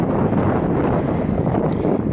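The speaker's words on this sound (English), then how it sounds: "I think it's probably going to be too windy" Gusty wind buffets the microphone outdoors, a steady low rumbling roar with small surges through the short stretch and no voices.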